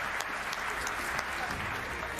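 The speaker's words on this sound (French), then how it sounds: "merci d'applaudir Erling Haaland." Applause for Erling Haaland at the Ballon d'Or 2023 ceremony in Paris, a steady wash of clapping from a seated crowd, moderately distant and even throughout.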